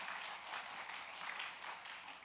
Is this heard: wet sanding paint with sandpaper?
no